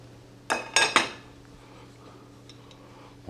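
A knife scrapes and clinks against a plate while slicing tender roast beef, giving three quick, close metallic taps in a row, then a quiet room.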